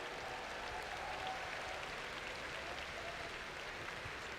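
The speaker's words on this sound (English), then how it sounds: "I need another round of applause for you guys right here" A large live crowd at the EVO 2022 Street Fighter V Top 8 in the Mandalay Bay applauds in a dense, continuous clapping roar.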